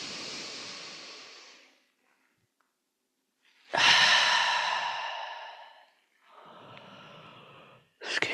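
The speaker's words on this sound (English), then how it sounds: "Excuse me for the yawn." A person yawns in a quiet room, with long breathy exhalations and drawn-out sighing sounds in several separate swells and a brief pause between them.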